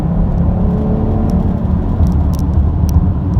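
A 2017 Chrysler Pacifica minivan with a 3.6 liter engine accelerates, giving a steady low rumble and whir heard from inside the cabin, continuous and fairly loud, with no talking.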